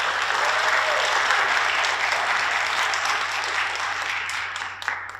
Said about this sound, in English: Let's give them a well-deserved round of applause to show our appreciation and support.